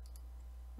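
A few soft right-clicks of a computer mouse in Blender, two in quick succession and then one more, over a low steady hum.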